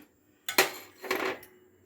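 A tumbler scoops flour for a festive kummayam sweet, giving two short scraping clinks close by, the second softer and longer, with quiet around them.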